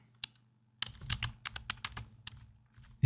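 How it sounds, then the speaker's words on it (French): Shader code is typed on a computer keyboard, a quiet opening tap followed by a rapid run of close clicking keystrokes over a low electrical hum, ending with a sharp louder knock. "Donc, on tape donc shader type"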